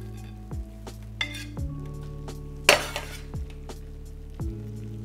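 Cooked lamb for a keto shepherd's pie is spooned with a slotted spoon into a casserole dish, giving several distinct metallic clinks and scrapes at irregular intervals, one louder clatter, and a quiet background hum.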